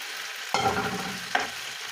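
Two ripe chopped tomatoes drop into a pan of frying chicken, setting off two sharp bursts of close, loud sizzling that then settle into a softer crackle.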